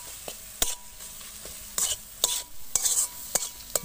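Fish with cumin and turmeric powder sautéing in a hot pan, with a soft sizzle broken by repeated sharp scrapes and clinks of a spatula stirring, close and without speech.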